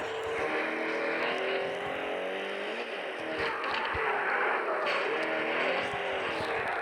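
A car drives along steadily, its engine and road noise forming a continuous, fairly loud rumble for the whole stretch with no clear pass-by peak.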